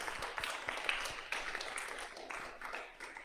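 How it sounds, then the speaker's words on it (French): A small conference hall audience at a talk on Covid communication gives a faint, thin round of clapping, with individual claps audible over a quiet room. "on peut vous applaudir, évidemment, bien sûr"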